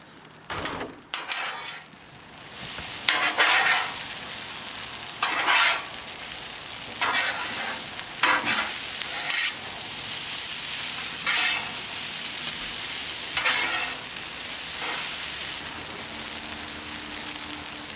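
Chicken fried rice sizzles on a teppanyaki griddle with a steady frying hiss, broken every couple of seconds by bursts of scraping and stirring from a spatula. No one speaks.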